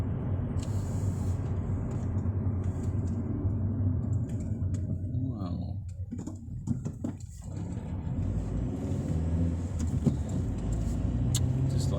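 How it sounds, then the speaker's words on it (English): Road traffic at night: cars rumble and hiss continuously, with one vehicle swishing past more clearly in the middle and no voices. "Cars stopping though, really random. It's been a bit dodgy, the traffic tonight."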